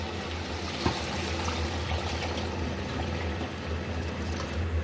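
Beef broth (yakhni) is poured from boiled meat into a pan of spiced nihari, making a steady close trickling, splashing pour that continues evenly throughout.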